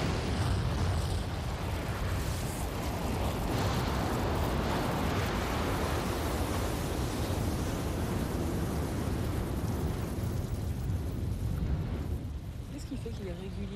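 Explosive volcanic eruption in Vanuatu, heard as a continuous loud roaring rumble with broadband blasting noise that holds steady for most of the span and eases slightly near the end.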